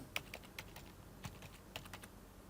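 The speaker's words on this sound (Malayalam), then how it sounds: "അതിനുശേഷം പാസ്വേഡ് ടൈപ്പ് ചെയ്യുക" Fingers tap a password onto a computer keyboard in quick, irregular keystrokes, faint and close, with no talking.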